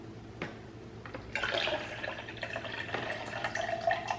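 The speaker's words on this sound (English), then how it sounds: "I'm gonna top it off with a half cup of coconut water." Coconut water poured into a cup partly filled with filtered water, a faint close trickling stream that starts after a few small drips and runs on under light splashing.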